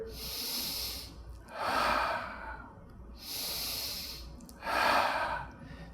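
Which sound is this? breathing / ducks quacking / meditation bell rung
breathing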